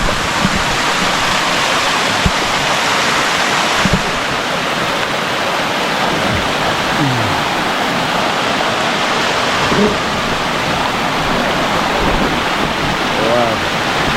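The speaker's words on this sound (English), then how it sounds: "Bluefields River." Rushing water of the Bluefields River in Jamaica, a loud continuous broadband roar filling the whole stretch, with faint voices and brief sounds now and then beneath it.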